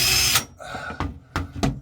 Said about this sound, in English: That's why it's good to start a pilot hole with a small bit.